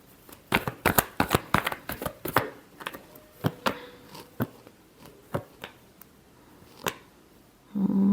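Tarot cards being shuffled during a reading, a run of crisp riffling bursts and taps up close, then sparser single flicks, with a louder muffled rustle at the end.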